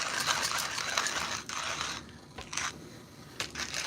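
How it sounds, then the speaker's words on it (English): Burmese Bear manual coffee grinder crushing coffee beans, a steady gritty ratcheting churn with brief pauses, close and fairly quiet with no talking. "The whole live is me grinding the coffee."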